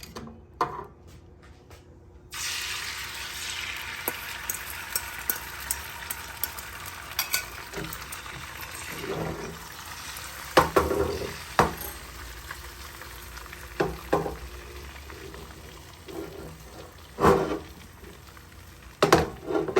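An egg frying in hot oil in a cooking pot, starting with a sudden loud sizzle after a quiet moment and continuing as a steady crackle with occasional louder pops and stirring clatter.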